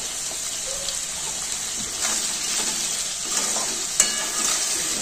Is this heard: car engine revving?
no